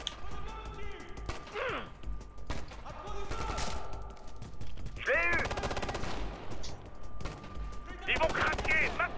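Gunfire in the video game Ghost Recon Future Soldier: rapid automatic bursts and single shots at moderate loudness, mixed with game effects and spoken voices throughout.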